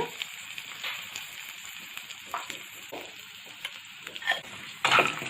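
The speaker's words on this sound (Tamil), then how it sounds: "இப்போ பூண்டையும் பொன்னிறமாக வதக்கிடுங்க." Garlic sautéing with steady sizzling in a hot pan, with occasional scraping stirs and a few louder crackles near the end, no voices.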